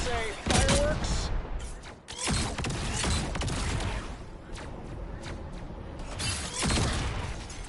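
Rapid fireworks-like bursts of gunfire from the video game Marvel Rivals, loud and dense, arriving in repeated volleys across the whole stretch with brief clattering gaps between them.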